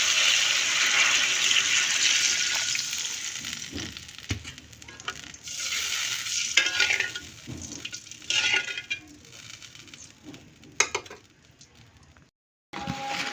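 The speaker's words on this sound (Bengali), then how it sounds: "মশলাটা ভালো করে কষিয়ে নিচ্ছি" A spice paste is stirred and sautéed in a pan, giving a soft, steady sizzle with scraping stirs and occasional clinks, fairly quiet, cutting off briefly near the end.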